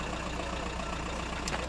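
A car engine idling, a steady low rumble that stays faint and even throughout, with no speech.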